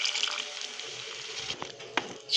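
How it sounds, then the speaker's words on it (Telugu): A quarter cup of water is poured into tomato paste seasoned with chili, turmeric and salt, a soft close liquid sloshing and trickling with a few small splashes and squishes. "ఈ పేస్ట్లో పావు కప్పు వాటర్ పోసుకుందాం"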